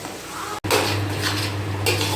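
Onions and tomato frying for chicken curry get stirred in a pan, steady sizzling under close clinks and scrapes of a utensil against metal, after a brief silent gap near the start.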